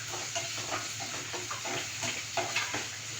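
Spices for a sweet and sour pickle fry in a pan while being stirred, a soft sizzle with light scraping strokes repeating at an uneven pace under a low background hum.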